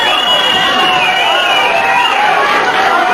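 A dense crowd at a 1978–1982 St. Louis wrestling event yells and chatters continuously, a loud, steady roar with voices rising and falling across the whole span.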